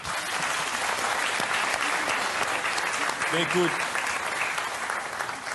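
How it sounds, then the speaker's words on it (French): A television studio audience applauds a guest, broad sustained clapping filling the room at an even level, with brief talk from a presenter audible over the applause. "Qu'on applaudit."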